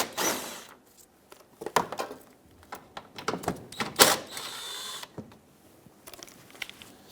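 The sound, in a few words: 10mm socket removing shield bolts under car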